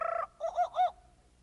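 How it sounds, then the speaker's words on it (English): A jungle bird call marks each page turn in a children's audiobook, heard as a short burst followed by two warbling, looping whistles that rise and fall, loud and close, with no talking. "You will know it is time to turn the page when you hear the jungle bird call,"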